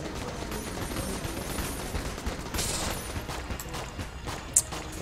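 Rapid video game gunfire striking the player character, a dense continuous rattle of shots with a few louder bursts and one sharp crack near the end.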